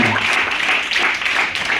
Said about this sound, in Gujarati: તો એવા વાલી માટે ફરી એકવાર તાળી પાડીએ